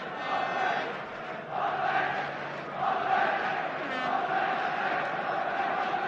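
Football stadium crowd of around 38,000 at a European Cup semi-final, a broad distant roar that swells and eases in waves under a commentator's voice.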